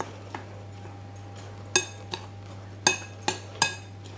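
A spoon stirring sugar and dry ingredients for Anzac biscuits in a bowl, giving five or six sharp metallic clinks against the rim at uneven intervals over a low steady hum, with no voices.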